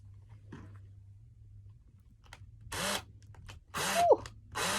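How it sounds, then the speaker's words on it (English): A power drill bores into the lower arm of a flimsy plastic doll in short bursts, three loud whirring spurts close by after a quiet stretch with a faint hum. "I am going to drill into the arm a little."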